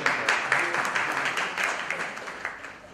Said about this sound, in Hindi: प्रदीप शर्मा जी का जोरदार ताली